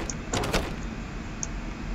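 A door in Amnesia: A Machine for Pigs rattles with a brief burst of clattering, straining knocks as it refuses to open, close and fairly loud, then settles into quiet ambience with a couple of faint ticks.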